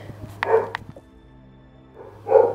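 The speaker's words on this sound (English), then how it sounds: "my dog's barking" A pet dog barks close by indoors, a quick pair of sharp barks, a pause, then another bark near the end, loud against a low hum.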